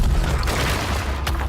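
A fist punch smashes open an extremely hard, rare-material door in an anime fight, heard as a loud sustained booming blast with dense rumbling crackle throughout, ending in a sharp burst.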